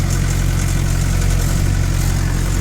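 A 2000-model Mahindra 575 tractor engine runs at a steady, even diesel throb with a low harmonic drone, close and continuous, with no voices.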